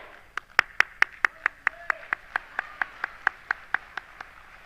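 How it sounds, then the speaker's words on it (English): Rhythmic group clapping from an audience cheering Kalakar dancers of Riza Dance Academy at an Indian community event in Bangkok, about twenty crisp, evenly spaced claps at moderate distance with a faint tone underneath. "A big round of applause for Kalakar from Riza Dance Academy"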